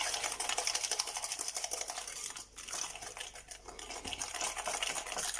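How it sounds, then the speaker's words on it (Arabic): Eggs and sugar are beaten by hand with a whisk in a bowl for cupcake batter, making a fast, continuous scraping and clicking rhythm with one short pause midway, close and moderately loud. "غادي نزيد عليهم الكاس ديال السكر وغادي نخلط غير بالضراب اليدوي"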